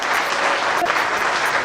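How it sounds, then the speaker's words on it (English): Audience applause at an event in Delhi, a dense, steady wash of clapping from a crowd, loud and sustained over a brief moment with no talk. "please give a big, big, big hand, a big round of applause"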